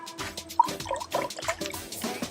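Watery rice milk poured into a cup, giving a short burst of close, bubbly splashing and trickling that comes in uneven spurts.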